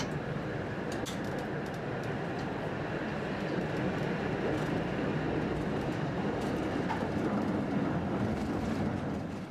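A Brussels tram motor car rolls along rails past fairground rides, a steady broadband rumble with light rail clatter and occasional clicks, continuous and fairly close.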